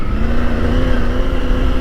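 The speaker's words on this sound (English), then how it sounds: "It revs really nicely" A Triumph Tiger 900 GT Pro motorcycle's engine revs high and hard, a loud, close, sustained drone with a steady pitch and no voices over it.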